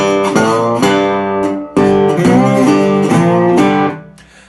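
A slide guitar in open G tuning plays a short bluesy riff of gliding, ringing notes in a few loud phrases that sustain and fade out at the close.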